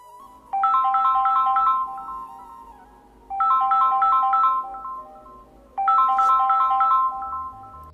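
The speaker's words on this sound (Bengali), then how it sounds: "ঠিক তখনই ফোনটা বেজে ওঠে।" A phone ringtone plays three times, each a melodic electronic chime lasting about two seconds with short gaps between, clear and close, with no talk.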